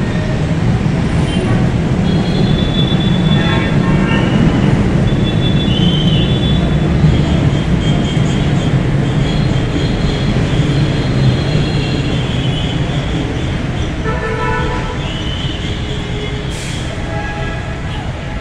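LRT Line 1 light rail trains of the 3G and 4G types run past with a steady loud rumble and rail noise throughout, with faint squeals and some distant voices.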